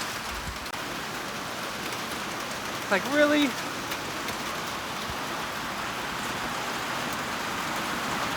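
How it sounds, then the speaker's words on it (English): Steady, dense rain hissing continuously outdoors beside a truck, with a brief voice speaking once partway through. "It's not just a sprinkle either,"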